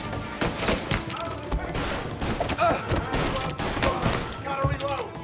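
Gunfire in the video game Mafia Definitive Edition, a continuous loud fusillade of overlapping shots with sharp cracks throughout, close and busy, with game voices mixed in.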